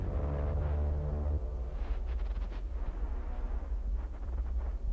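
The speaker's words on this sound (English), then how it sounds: "I'm shooting." Weapon fire in the sci-fi game The Invincible: deep, sustained booming rumble with low roar throughout, a denser burst early on then rolling, crackling discharge textures, loud and close.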